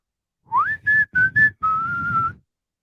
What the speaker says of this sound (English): Strikeout whistle.